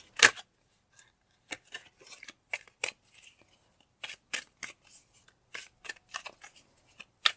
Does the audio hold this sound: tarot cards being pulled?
yes